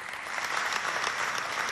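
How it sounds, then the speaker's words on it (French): Audience applause for a guest arriving on a studio set at a Chadian school talent show, a steady dense wash of clapping heard alone from start to finish. "on l'applaudit bien fort"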